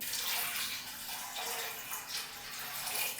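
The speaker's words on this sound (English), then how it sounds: "In there, water." Water pours steadily into a pan holding chana dal, salt and turmeric, a continuous soft splashing rush lasting a few seconds, fairly quiet and with no talk over it.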